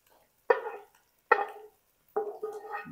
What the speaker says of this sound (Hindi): अब मैं इसमें ये प्याज जो मैंने ब्राउन करके रखा था ये प्याज मैं इसमें ऐड करने लगा हूँ